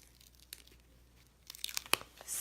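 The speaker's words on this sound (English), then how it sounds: "You can see how sticky it is just peeling it back" Super-sticky cling mount sticker peeled back from its backing sheet during a stamping craft session: quiet crackling and tearing that builds into a louder, close, crinkly rip near the end, no talk.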